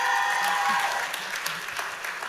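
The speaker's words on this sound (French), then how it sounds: "vous allez répondre par applaudissement" A brief burst of audience clapping rings out in a ceremony hall in answer to a host's question, dense and fairly loud, tapering slightly toward the end.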